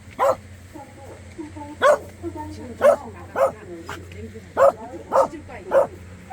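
A dog lets out a string of repeated, fairly close barks, some shading into whimpers, at irregular intervals over a low steady hum, while someone talks in between.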